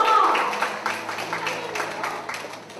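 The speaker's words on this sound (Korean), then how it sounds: "박수 한번 쳐주세요" Audience at a church youth gathering clapping for a child, a brief, moderately loud patter of claps that fades, with a voice at the start.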